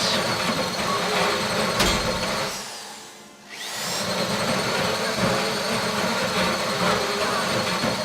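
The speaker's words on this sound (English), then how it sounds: "How you doing with that drill?" In a video game bank heist, a drill boring into a safe deposit box makes a loud, steady mechanical whine, dipping briefly into near-silence midway before the harsh drilling noise resumes at full strength.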